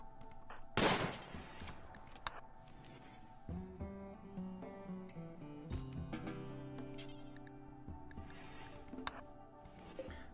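Gunfire in a Rimworld fight, a loud sharp shot near the start followed by scattered quieter pops and ticks over tonal game sounds, with no talk.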